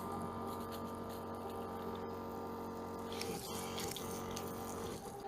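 Water running from the external shower of a Starex camper van, a steady hissing spray with an underlying pump hum, continuous and close throughout, with a slight shift in texture near the end.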